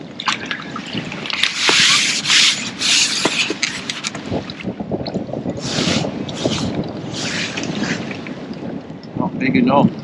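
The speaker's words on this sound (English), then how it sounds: "I think it'd be absolutely solid with that wind coming towards me," Wind buffeting a microphone beside a fishing lake, gusty roaring bursts rising and falling over several seconds, with water sloshing and handling noises and a person talking intermittently.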